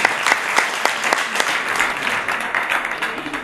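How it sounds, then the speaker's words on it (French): An audience at a literary salon applauds the guest author Didier van Cauwelaert, a close, steady round of clapping with sharp individual claps punctuating the wash, fading slightly toward the end. "qu'on peut applaudir une deuxième fois"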